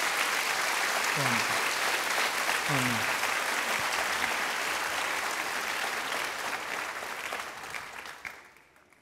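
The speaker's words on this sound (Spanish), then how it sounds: "Un aplauso al Señor." A church congregation applauds during a Spanish-language sermon: dense, steady clapping that fills the room, with a brief voice over it, then fading out near the end.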